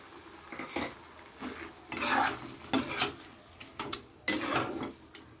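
A spoon scrapes and clatters in a pan as boiled chana dal is added to fried prawns for Bengali dal chingri, giving irregular stirring bursts over a faint background hiss.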